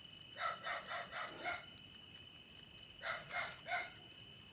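A caught bird calls in short bursts, a quick series of four or five sharp notes, a pause, then three more, moderately close over a constant high whine of insects, with no one talking.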